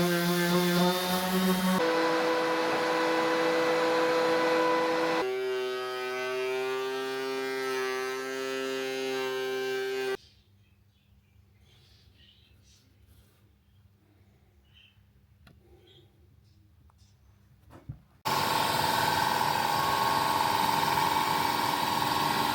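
A wood thickness planer runs in a workshop during a side table build, its motor giving a loud, steady harmonic whine. It cuts out for about eight seconds of near silence, then starts up again just as loud.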